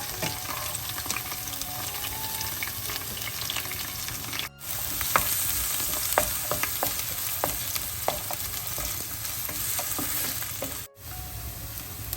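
Onions and green chillies sizzle in oil for rava upma, a continuous close frying hiss with scattered crackles and light stirring taps, broken by two brief silent gaps.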